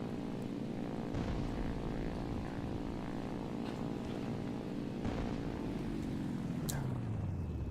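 Propeller aircraft engine in a flight game with bombers, a steady loud droning hum with layered tones throughout, the pitch sliding down near the end as the engine is throttled back, with faint speech underneath.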